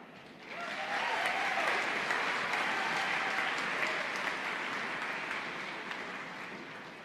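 Families and friends applauding graduates at a May 2023 university commencement, a sustained swell of clapping from a large audience that rises quickly, holds steady, then slowly thins.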